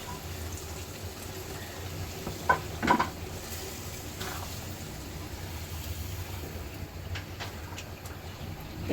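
Meat being stirred with oil in a pan for a Rajasthani meat dish, giving a soft, steady sizzle with a couple of brief scraping clatters near the start and quieter stirring after.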